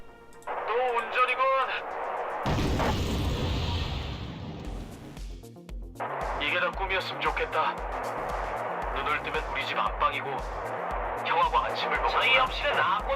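A heavy tank cannon boom bursts out in the Wargame Red Dragon strategy game, with a rumbling roar that lasts a few seconds, then pulsing engine and battle noise, while someone talks over it.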